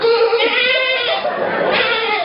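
A young goat bleats in steady, close calls at a large community gathering, with voices of people mixed in around it.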